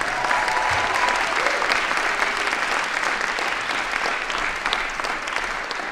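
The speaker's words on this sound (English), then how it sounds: "Another round of applause for Intermediate Band." An audience applauds an intermediate school band at a fall music concert, a loud, steady wash of clapping filling the hall for several seconds without pause.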